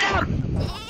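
A sheep bleating in the Worms W.M.D video game, one short, loud, wavering bleat heard up close.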